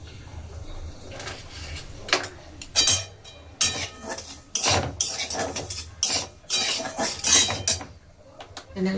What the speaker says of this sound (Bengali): কতগুলো জিনিস যেগুলো আমি দেব সেগুলোকে আমি কেটে নিচ্ছি।